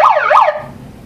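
A loud electronic alarm siren from a 10-watt handheld megaphone wails up and down in quick sweeps, then cuts off into a faint buzzing hum.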